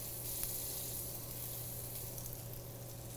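Banana bread slices fry in butter in a pan, giving a faint, continuous sizzle with light crackling and a small pop near the start, alone without speech.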